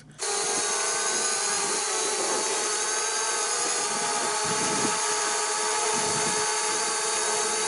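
An MJX Bugs 12 EIS quadcopter flies close by with a steady, loud high-pitched whine from its spinning propellers, holding continuously with only slight wavering and no talking.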